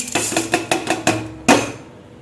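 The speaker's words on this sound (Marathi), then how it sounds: "आता त्याच्यामध्ये ही चवळी आणि बटाटा टाकून घेऊया आपण" Cowpeas and potato pieces drop into hot water in a pressure cooker with a series of sharp, close knocks and splashes in uneven rhythm, ending in one louder plunk before quiet.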